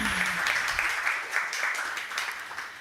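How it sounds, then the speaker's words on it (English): Applause from a seminar audience at Almedalen, a dense, moderately loud patter of many hands that gradually tapers off, with a faint voice briefly audible at the start. "Once again, a warm applause for Turo."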